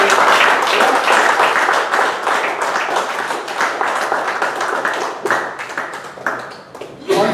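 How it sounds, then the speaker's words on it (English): Audience applause at a Toastmasters club meeting, loud close clapping from a room of people, dense at first and then thinning into scattered individual claps toward the end. "Please give them a big round of applause"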